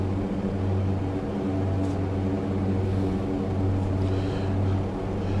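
A twin piston-engine BN-2 Islander in cruise in Microsoft Flight Simulator gives a steady, fairly quiet propeller drone with a constant low hum, heard alone without talk.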